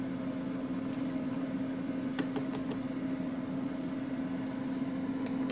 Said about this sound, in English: Add it to a microwave on high for about 7 minutes.